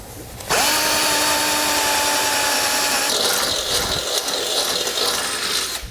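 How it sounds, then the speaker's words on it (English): A power drill whines loudly and steadily, drilling bolt holes through the metal frame of a 2012 GMC Terrain, with a continuous high-pitched bite and a shift in tone partway through. "we can go ahead and drill out these remaining 3 holes here on each side"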